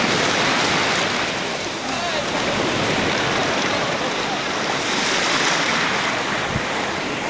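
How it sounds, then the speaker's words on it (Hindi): Big, strong sea waves breaking and surging on a beach, a continuous loud roar of surf mixed with wind buffeting the microphone, with no clear pause throughout. "आज लहर भी काफ़ी बड़ा है, तेज आ रही लहर, लहर तेज है आज"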